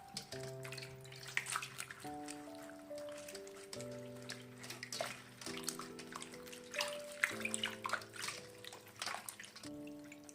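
Napa cabbage soaking in salt water is rubbed and scrubbed by hand, giving faint, irregular splashes and wet swishing under soft background music.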